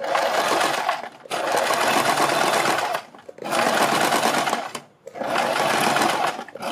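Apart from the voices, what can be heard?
sewing machine stitching fabric beside buckram for kurti neck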